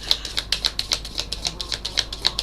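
Tarot cards shuffled by hand in a quick run of crisp, evenly spaced clicking riffles close up, about a dozen taps in a couple of seconds, with no voices.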